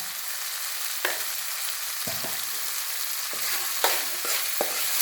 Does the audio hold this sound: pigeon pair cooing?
no